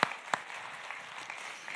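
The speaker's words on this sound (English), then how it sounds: "Can we get one more huge round of applause for our first inspirational speaker?" Faint, distant applause from a conference audience for an inspirational speaker, with a couple of sharper claps near the start over a soft, even wash of clapping.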